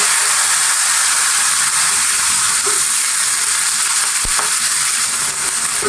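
Small fish and chopped onion stalks frying in a pan, a steady broadband sizzle held at close range throughout with a faint clink partway through, no voices.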